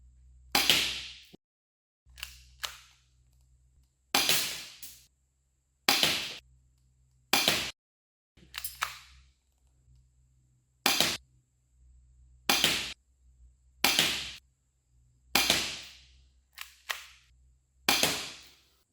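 Delta Elite airsoft pistol firing 0.20 g BBs at a target seven metres away, a dozen sharp snapping shots at close range, spaced irregularly a second or two apart over a low background hum.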